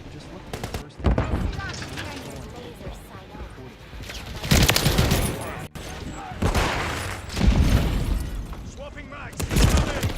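Call of Duty: Modern Warfare 3 firefight with repeated loud bursts of automatic gunfire and sharp impacts, coming in waves with short lulls, while in-game voices call out over the shooting.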